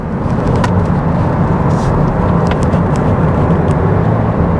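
Inside a 2024 Toyota Prius Limited cornering around a ramp, steady road and tire noise hums with a constant motor drone and faint ticks, no talking.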